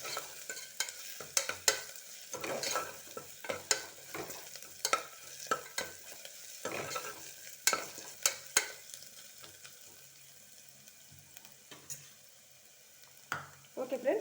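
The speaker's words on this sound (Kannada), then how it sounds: "ರಾ ಸ್ಮೆಲ್ ಹೋಗುವವರೆಗೆ ಸ್ವಲ್ಪ ಫ್ರೈ ಮಾಡಬೇಕು ಜಿಂಜರ್ ಗಾರ್ಲಿಕ್ ಪೇಸ್ಟನ್ನು." Ginger garlic paste sizzles and fries in a pan while a spoon stirs it, with repeated close scraping strokes over a steady low crackle.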